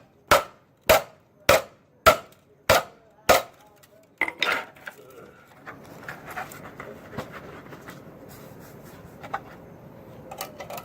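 Six sharp, evenly spaced metallic hammer strikes on the welds of a drift Jeep being tested for strength, loud and close, followed by quieter scraping and handling of metal.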